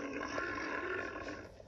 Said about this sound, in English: This is the sound a bear makes.